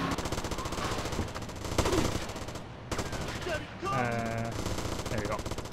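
Gunfire in the video game GTA Liberty City Stories: rapid bursts of shots rattle steadily for several seconds amid game sounds and music, with a short break near the middle.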